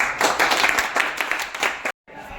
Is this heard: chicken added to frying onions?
no